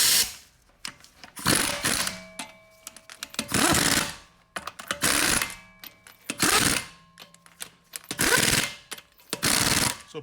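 An impact wrench tightens lug nuts on a GMC Acadia wheel during a front brake job. It comes in about six loud, rattling bursts of roughly a second each, separated by short quiet pauses.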